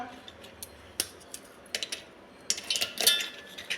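Irregular crisp snaps and cracks of biscuits being broken in two and dropped into a mixer jar, a quick scattered series close up.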